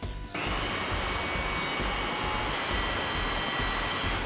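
A BobTail fastener installation tool cycles with a loud, steady pneumatic rush that starts abruptly and holds unbroken, close and alone.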